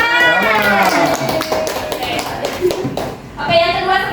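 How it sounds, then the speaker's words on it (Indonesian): Classroom of children applauding a classmate, quick rapid clapping close by with children's voices and talk running over it. "Tepuk tangan dia buat Jamal."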